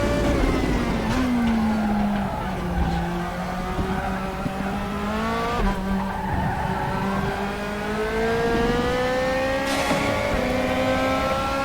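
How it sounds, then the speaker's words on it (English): DTM 2020 race car in RaceRoom, engine pitch rising and falling through gear changes with exhaust crackles and pops on the overrun, loud and close throughout with no voices. "Just popping and banging on the overrun."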